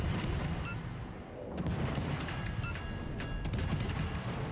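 Warship guns fire in World of Warships aboard the destroyer Halland, booming artillery thuds and crackling blasts rumbling over a constant loud engine and sea roar, with sharp metallic clicks of the turret mechanisms.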